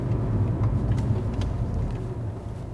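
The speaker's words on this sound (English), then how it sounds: "Let's accelerate from 0." A 17-year-old VW Golf GTI MK5 pulls away from a standstill, its engine a steady, loud, close rumble that holds throughout with no voices over it.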